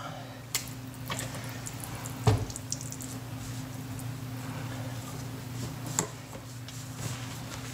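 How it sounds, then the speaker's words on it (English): Water trickling and dripping as it drains from the pump of a GE dishwasher after the drain hose is removed, a faint steady wet flow with a few small splashes and light handling clatter close by. "Get a little bit of water out of your pump."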